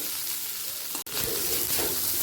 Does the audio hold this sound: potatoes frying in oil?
yes